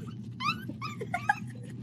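A young puppy whimpers and squeaks in a string of high, wavering cries, close and fairly clear over a low steady background hum.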